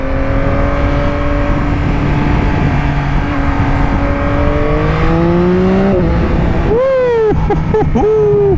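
A 2021 Yamaha MT-09 motorcycle engine drones loudly and steadily, then revs up sharply several times near the end with rising, snarling bursts.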